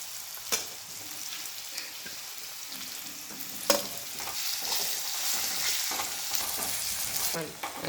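Potato slices fry in a pan with turmeric and salt, giving a soft, steady sizzle broken by sharp scraping and clinking as a spoon stirs them, a few distinct knocks standing out; no talking.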